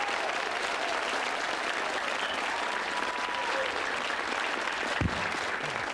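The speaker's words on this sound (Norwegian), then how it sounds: "En applaus til Arthur Granerød." A television studio audience applauds a guest named Arthur Granerød, a continuous, full-bodied clapping that holds steady for several seconds, with one sharper thump near the end.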